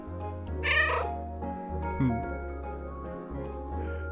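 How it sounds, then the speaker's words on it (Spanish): Black kitten in the video game Calico meowing several times, a loud high cry over a steady hum of game music, followed by softer mews. "¡Un gatito negro!"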